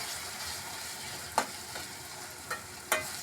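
Paneer cashew gravy masala frying in a pan: a soft, continuous sizzle with three sharp spoon scrapes against the pan, all fairly quiet and close.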